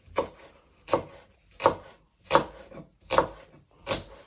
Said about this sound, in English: And then you want to slice it into thin pieces.